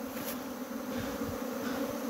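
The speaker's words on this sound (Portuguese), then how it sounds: "Agora nós tá tocando as abelhas pra dentro da caixa" Apis honeybees buzzing steadily and densely during a hive rescue, a continuous close swarm drone with no talk over it.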